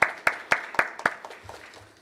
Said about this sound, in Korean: 오늘 은사 집회를 통해 치료하시고 응답해 주신 아버지 하나님께 모든 감사와 영광의 박수를 다시 한번 올려드리겠습니다.